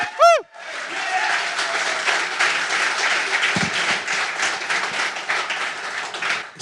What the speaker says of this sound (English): A big round of applause for Synaptics R&D team.